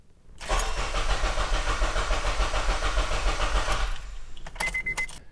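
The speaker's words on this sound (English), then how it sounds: "as I crank the engine" A car engine cranks over on the starter for about three and a half seconds, a loud, even, churning whir up close that stops abruptly, followed by a few faint clicks and rattles.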